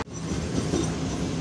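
Tezgam passenger train rolling on rails in Pakistan heard from on board, a steady loud rumble of wheels and carriage noise with faint clatter throughout.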